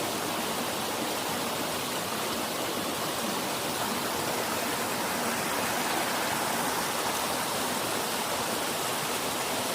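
A stream or waterfall on the Sulphur Springs Trail at Paris Mountain pours in a loud, dense, unbroken roar of rushing water, close by and steady for the whole stretch with no voices.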